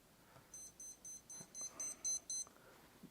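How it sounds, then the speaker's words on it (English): A small timer beeping indoors, a run of eight short, evenly spaced electronic beeps, fairly faint against quiet room noise. "That's my little timer right there."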